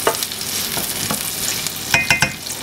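Garlic frying in a pan, with a soft continuous sizzle and a few sharp scraping stirs of a utensil near the end, close and unaccompanied by voices.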